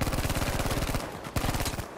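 Rapid automatic gunfire in the Battlefield V shooter game, a fast steady stream of shots, a brief pause, then another burst, loud and close with no talk.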